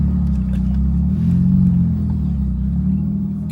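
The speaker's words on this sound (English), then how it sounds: "Good Alibaba exhaust. Sounds really, really good, man." A Porsche 911 fitted with a cheap Alibaba aftermarket exhaust cruises from inside the cabin, a loud, steady low engine drone that swells briefly as it pulls, with no talk.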